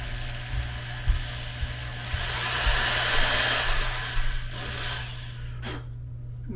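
A small drill bores a pickguard screw hole on a vintage guitar build, giving a brief rising whine that spins up, holds for about a second, then winds down, fairly quiet over a steady low hum.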